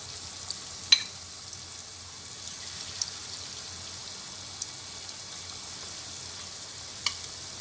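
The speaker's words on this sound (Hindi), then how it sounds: "और इसे गोल्डन फ्राई करेंगे।" Chicken pieces for a Dhaka chicken snack fry golden in hot oil, giving a faint, steady sizzle with a few sharp pops, and no one talks.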